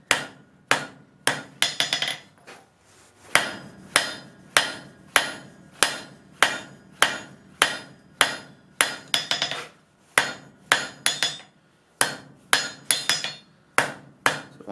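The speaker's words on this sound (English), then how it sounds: "I'm going to flip it around and I'm going to forge out what's here in the tongs" A blacksmith's hammer forges a metal calla lily with sharp, ringing strikes in a steady rhythm, roughly one to two blows per second, close and loud with brief pauses between groups of hits.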